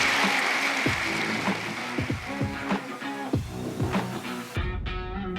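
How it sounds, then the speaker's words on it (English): A podcast audience applauds after radio presenters Ken Bruce and Fleur East are introduced, a steady wash of clapping with some tonal noise running through it, ending abruptly. "just give them a round of applause"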